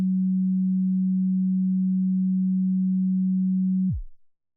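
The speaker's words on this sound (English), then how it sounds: "We normally see smooth waveforms that sound like this." A smooth, pure sine tone holds perfectly steady for about four seconds alone, then drops away and fades out at the end.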